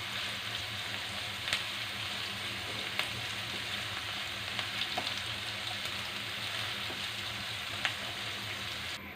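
Onions frying in a pan until brown, a soft continuous hiss and crackle heard close but quiet, with a few faint ticks and no talking.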